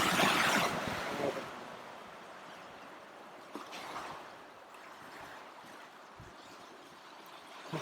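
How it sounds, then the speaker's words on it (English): Ocean surf on the rugged Scottish north coast, waves surging and washing against rocks with a loud rush at the start easing into a steady roar, some wind buffeting the microphone, no voices. "Look at how dramatic the ocean has become."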